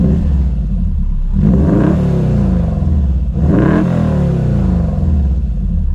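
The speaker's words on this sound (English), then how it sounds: "before I go and open the rear engine compartment to hear what a boxer engine sounds like, it has a really unique sound." A 2.5-liter opposed four-cylinder boxer engine in a Porsche 356 Speedster replica revs loudly and up close, rising twice in strong throttle blips over a deep, continuous rumbling idle.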